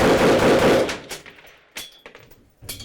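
A sport shooting firearm fires a rapid, loud, close burst that rolls into a decaying echo, followed by a few scattered sharp cracks and clicks, with no talk.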